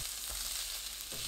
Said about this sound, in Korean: 팬에 식용유 한 큰술, 다진마늘 한 큰술, 스팸 넣고 센 불로 볶습니다.